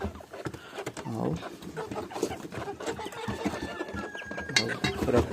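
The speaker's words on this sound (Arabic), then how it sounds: "فراخ بسم الله ما شاء الله بياضة" Laying hens cluck and cackle in a busy poultry yard, with overlapping bird calls and scratchy, ratcheting chatter filling the space continuously at moderate, close range.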